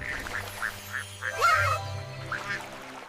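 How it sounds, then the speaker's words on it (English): A cartoon duck quacking, a string of short nasal quacks in a steady rhythm over a low music bed, fairly close and moderately loud. "Quack, quack."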